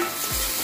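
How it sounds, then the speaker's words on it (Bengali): Fish head dropped into a hot pan of oil with turmeric: a loud, steady, bright sizzle lasting under a second. "এই দেখুন মাছের মাথাটা দিয়ে দিলাম।"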